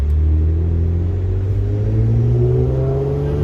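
A car fitted with PPE catless downpipes and a straight-piped exhaust, cruising at steady revs with a loud, close, even drone and a low rumble throughout.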